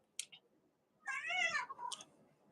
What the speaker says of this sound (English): now he's crying at the door, looking out the window like something about to get him.